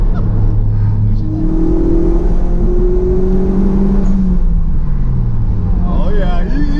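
A 1988 Toyota MR2 AW11 accelerates through traffic, its engine climbing in pitch through several rising pulls, loud and close inside the car, with people talking excitedly over it.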